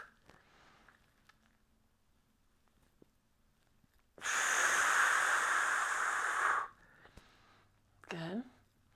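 A long, strong breath out during a Pilates mat exercise, preceded by quieter breathing and soft speech, with a short vocal sound afterwards.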